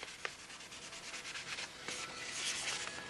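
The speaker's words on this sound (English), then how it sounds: "this is the worn out piece of sandpaper, and just go over the whole thing lightly without a block" Worn-out sandpaper rubbed lightly by hand without a block along the edges of a model, a soft continuous scratchy rasp with quick strokes, close and quiet.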